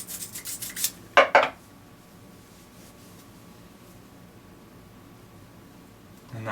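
A trimmed .308 Winchester brass case gets a quick fine polish: a few soft rubbing strokes, then a short, brighter scraping burst, followed by near silence in a quiet room.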